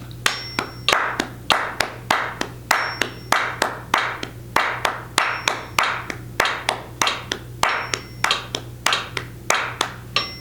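Hands clap a crisp, steady rhythmic pattern in time with the faint beeps of a metronome, with some claps grouped in quick pairs.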